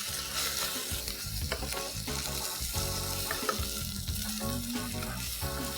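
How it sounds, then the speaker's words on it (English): Garlic paste and ginger paste fry and get stirred in a very hot pan for mutton do pyaza, a busy close-up sizzle with repeated scraping and clattering utensil strokes throughout. "I'm very quickly going to add a teaspoon each of garlic paste and ginger paste. And mix that and cook that."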